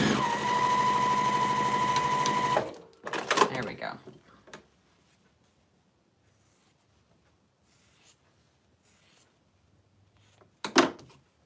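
A sewing machine stitches quilt pieces together in a fast, continuous whirring run, then stops abruptly. Quieter handling noises and a voice follow.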